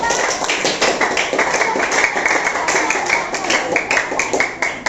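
Children applauding steadily, a dense patter of many hands clapping close by, with some voices underneath.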